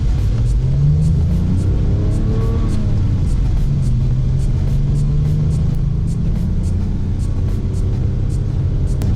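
A Porsche 996 Turbo safari build drives on the road, its engine rumbling loudly and steadily with gentle rises in pitch as it accelerates and shifts, close and continuous with road noise.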